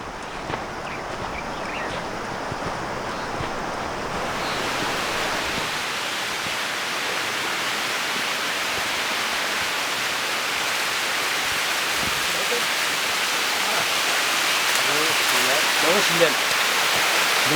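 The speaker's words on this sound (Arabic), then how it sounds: "شلال بوغنداش عظيم." Boughandach waterfall rushes in a steady, broad roar of falling water that fills the scene and grows slightly louder toward the end, with a voice faintly present under the noise.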